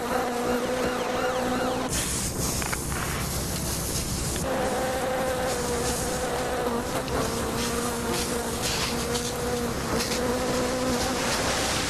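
A dense swarm of bees hums in a loud, continuous buzz that holds steady throughout, close and without letup, with no voices over it.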